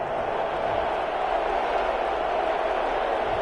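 A large crowd in a football stadium roars in a sustained, steady wall of noise, loud and unbroken, reacting angrily to a play during an NFL game between the Los Angeles Rams and Minnesota Vikings.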